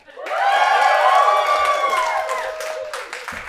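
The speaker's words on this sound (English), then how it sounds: "That guy got a bigger cheer than Dean." Open-mic audience applause and cheering, building quickly and holding steady for a few seconds before tapering, with a high whistle-like tone running through the middle.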